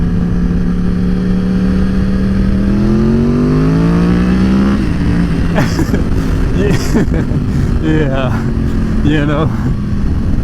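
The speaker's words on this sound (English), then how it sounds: "You see how smooth it is when you bring the RPMs up?" A car engine drones loudly and close, its pitch climbing smoothly as the revs rise, then settles into a steady hum while a person speaks briefly over it.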